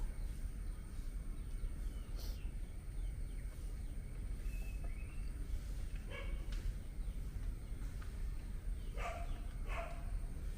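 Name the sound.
dog barking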